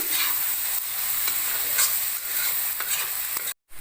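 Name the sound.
frying whole spices: cinnamon, cardamom, cloves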